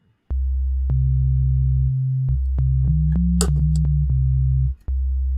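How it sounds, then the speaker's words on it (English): A low, pure sine-wave synth tone from an oscillator pitched down 12 holds steadily, stepping between a few pitches with small clicks at each change, then briefly cutting out near the end. "we're playing with a simple sine wave"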